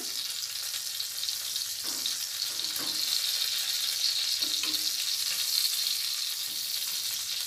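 Eggplant slices fry in oil under a lid, giving a steady, close sizzle with a few soft clatters and no talking.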